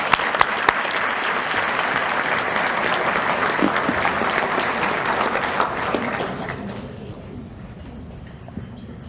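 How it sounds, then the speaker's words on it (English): A crowd at a chamber of commerce luncheon applauds in a full, sustained wash of clapping that holds steady and then thins and fades out near the end. "Let's give them a round of applause."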